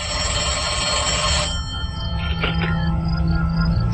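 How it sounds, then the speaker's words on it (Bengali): A telephone bell rings loudly and continuously for over a second, then stops, leaving a low hum and faint clicks. "ফোন রাখার কিছুক্ষণ পরেই আবার বেজে উঠল ফোন।"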